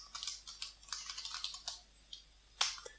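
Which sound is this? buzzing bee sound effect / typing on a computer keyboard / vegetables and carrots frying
typing on a computer keyboard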